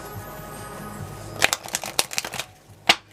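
Quiet room tone, then a burst of crisp riffling snaps as cards are shuffled, followed by a few scattered flicks and one final sharp snap.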